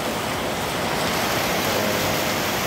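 Swollen river rushing hard after Typhoon Carina, a steady, loud broadband roar of fast floodwater with no let-up and no voices.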